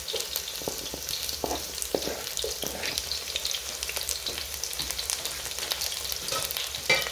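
Sausage and carrots sizzle and crackle steadily in a frying pan, with intermittent scraping and clattering as the food is stirred, close and fairly quiet.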